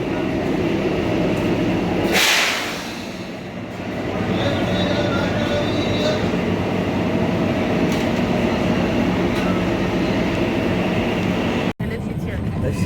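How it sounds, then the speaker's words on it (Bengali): Shivalik Express toy train on the Kalka to Shimla line, a steady close rumble of wheels and carriage heard from inside, with a rushing swell near the start that settles back into the continuous roll. "আমাদের এই শিবালিক এক্সপ্রেস"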